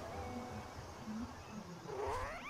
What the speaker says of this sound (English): It's a cat.